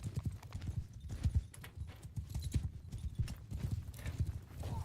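Horse hooves clip-clop steadily in the medieval combat video game Bannerlord, a fast continuous galloping rhythm, fairly close and loud over battle ambience.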